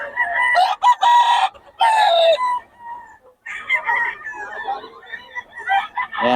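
A rooster crows loudly several times nearby in Bocaue, with clucking and other fowl noises in between the calls.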